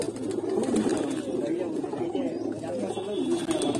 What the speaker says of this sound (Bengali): এই দেখেন কত সুন্দর সুন্দর কবুতর।